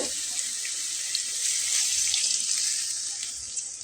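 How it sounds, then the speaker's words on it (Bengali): Water poured into a pan of Bengali fish curry, a steady close hissing rush of liquid that swells slightly midway and runs unbroken without talk. "তো এখন আমি এটাতে আরেকটু পরিমাণ পানি দিব"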